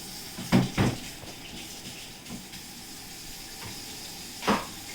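Water runs and splashes as metal oven parts, slightly rusty stove pieces, are washed in a sink, with a few clanking knocks and splashy bursts over a steady trickle.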